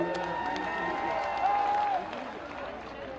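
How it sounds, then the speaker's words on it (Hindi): A crowd at a political rally claps faintly and distantly to welcome leader Jyotiraditya Scindia. The soft, brief applause sits beneath a louder voice and some tonal sound. "एक बार दोनों हाथ ऊपर उठा के ताली बजा के स्वागत कीजिए।"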